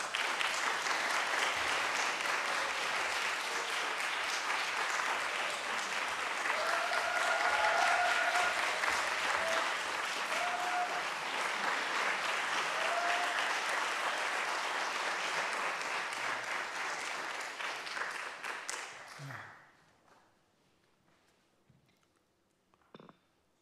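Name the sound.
audience applause welcoming pansori performers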